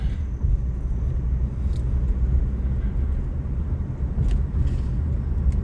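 A car drives slowly toward the graves of German prisoners of war at Fort Custer National Cemetery, its steady low engine rumble and road noise continuous and fairly close, with no talking.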